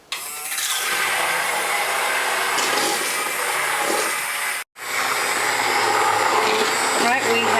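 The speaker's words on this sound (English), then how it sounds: "we should take our immersion blender" An immersion blender purees crawfish bisque with a loud, continuous whirring roar that cuts out briefly partway through and then resumes.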